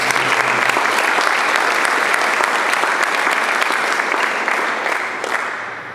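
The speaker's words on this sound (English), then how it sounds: "So please help me in giving them a round of applause for that." An audience at a team announcement event gives dense, loud, continuous applause for volunteers, which fades slightly toward the end.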